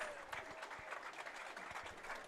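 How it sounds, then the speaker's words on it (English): A crowd applauds at a baseball game, the North Division Finals between the Purcellville Cannons and Strasburg Express, with dense, steady clapping heard from a distance at low volume. "big round of applause for Mr. Christopher Poltar"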